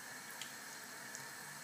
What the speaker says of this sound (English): And you see it's starting to sizzle.